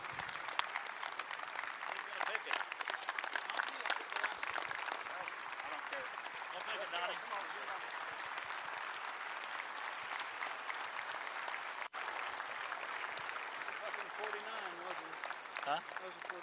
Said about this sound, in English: Let's give them a standing applause.